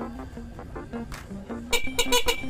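A few short snail horn toots sound in quick succession near the end, after a stretch of quiet talking; the beeps are bright and close.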